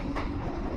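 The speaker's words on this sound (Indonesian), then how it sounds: "langsung ngadep ke sambungan kereta, dan itu udah pasti berisik lah" The connection between two railway carriages of a moving train gives off a loud, close, continuous rumble with a brief rattling surge.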